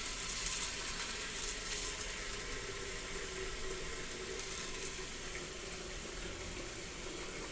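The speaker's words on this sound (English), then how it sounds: "Put some water in it." Water pours steadily into a pressure cooker container holding split peas, a continuous hissing splash that stays even and moderately close throughout, with no voices.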